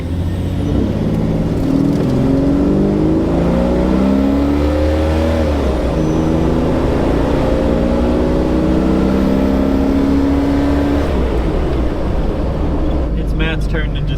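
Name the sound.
car accelerating at full throttle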